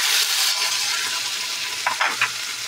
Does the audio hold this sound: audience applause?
no